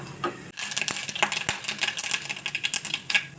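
Half a teaspoon of mustard seeds crackle and pop in hot coconut oil in a pan, a close burst of rapid, irregular sharp clicks with no talking.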